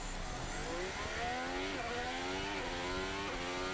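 A 2026 Formula 1 car accelerates off the line at Bahrain pre-season testing, its engine note climbing through several rising gear-shift steps, loud and continuous with no talk.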